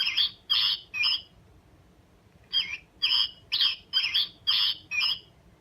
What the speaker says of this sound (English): I love these birds because they make the actual sound of the bird.